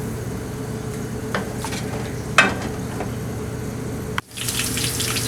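Two tablespoons of cooking oil go into a pan for dhaba-style daal mash, first as a low steady wash, then as a sudden brighter hiss when the oil hits the hot pan.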